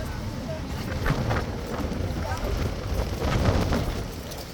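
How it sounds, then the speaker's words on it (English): Strong wind gusting outdoors on a very windy Monday morning at Horse Guards, roaring steadily across the microphone with louder surges, while a voice talks in the background. "You can hear, guys, as well as see that wind"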